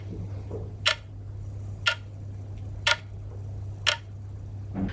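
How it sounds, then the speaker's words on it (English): A clock ticks slowly and evenly about once per second, each tick a crisp click over a low steady hum. It is quiet and close, with no voices. "second needle is giving this tick tick sound while it's moving smoothly"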